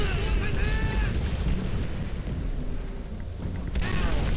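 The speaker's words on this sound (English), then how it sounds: "Miller, throw a satchel charge." Booming explosions and artillery rumble from a Call of Duty: World at War battle, with a satchel charge blast among dense loud combat noise and voices shouting over it.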